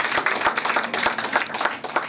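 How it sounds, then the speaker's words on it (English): Guests at a UNILAG law alumni gala night clap for the alumni association's global president, a short burst of close, uneven handclaps with a few sharp individual slaps. "Well, give him another round of applause."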